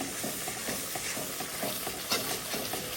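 Spice masala being sautéed in oil in a pan while cooking beef chaap bhuna, a continuous sizzle with a faint steady whine above it, broken by rhythmic scrapes and stirs of a spoon, close and alone.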